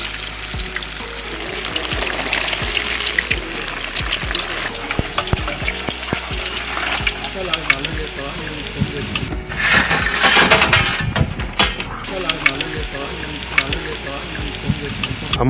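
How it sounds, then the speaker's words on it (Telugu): Catla fish pieces frying in oil, a steady crackling sizzle close up, broken by a louder burst of spattering midway and occasional clinks and stirs. "మిగిలిన చేపలన్నీ ఇలాగే ఫ్రై చేసుకుందాం"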